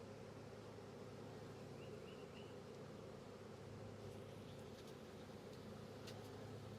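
A large honeybee swarm pours into a hive, a dense, steady outdoor hum of many bees that stays even and fairly faint throughout.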